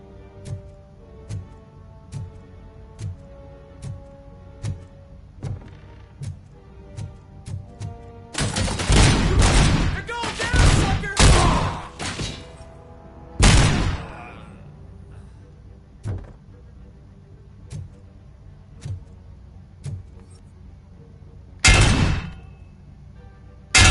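Gunfire in the RoboCop Rogue City video game comes as a few loud rapid bursts and single sharp shots over a steady run of faint ticking clicks and a low hum.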